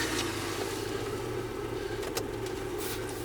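The engine of a Citroën CX runs steadily at idle close by, a continuous low hum with a few faint clicks as the car is started to raise its suspension.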